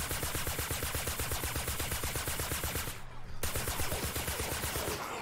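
A light machine gun in a video game fires long, rapid bursts, each shot loud and evenly spaced, with one brief pause midway before the firing resumes; no talking.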